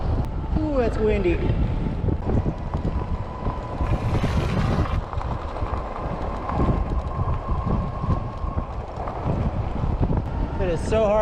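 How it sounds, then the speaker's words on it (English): Strong wind buffets the microphone while riding a 2023 Wallke X3 Pro e-bike, with a steady roar and gusts, while a voice speaks intermittently underneath. "Ooh, that's windy."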